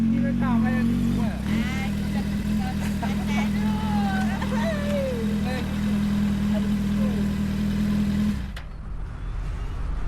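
A motorcycle engine runs steadily at a close, even drone on a ride through Sekinchan, changing pitch briefly early on, while people talk over it before the engine note drops away near the end.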